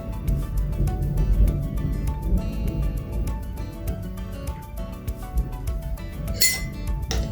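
Glassware clinking and tapping as white rice mixed with Lugol's solution is stirred in a lab carbohydrate test, a steady run of light, close ringing clinks with bright tinkles, repeating at an irregular stirring rhythm.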